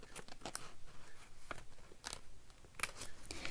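Scissors cutting a small tab off a paper envelope, with a few quiet, close snips and crisp paper crunches in an uneven rhythm.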